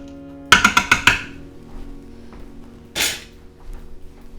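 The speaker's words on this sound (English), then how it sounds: "Then we're going to give it a quick stir around just to incorporate everything." Turkey stew with diced tomatoes being stirred in a pot: five quick sharp clinks of a utensil against the pot in a row, then a single louder scraping sweep a couple of seconds later, close and alone.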